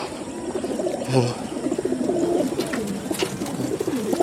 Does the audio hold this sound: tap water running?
no